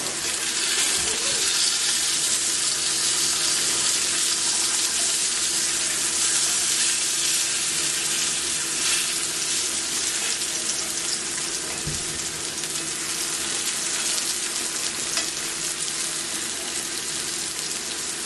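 Zucchini sizzles steadily in a pan, a continuous, fairly loud broadband frying hiss with faint crackle running for the whole stretch, no talking.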